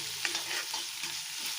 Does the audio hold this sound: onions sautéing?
yes